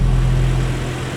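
A virtual car engine in Krotos Studio Pro, heard from the engine position, gives a steady low droning hum with a strong bass tone, loud and continuous, easing slightly toward the end.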